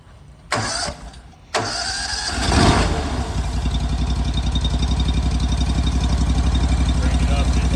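Small motor on an all-in-one skid unit starts up with a few rough bursts, then settles into a steady, close idle hum that holds evenly to the end.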